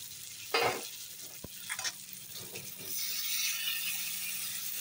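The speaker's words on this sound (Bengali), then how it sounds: "বাটিটা একটু ধুয়ে জল দিয়ে দিলাম।" Water from a rinsed bowl is poured into a pan of cooked-down masala for a rohu fish curry. A few clinks and a splash are followed by a soft, close sizzle that swells and holds steady.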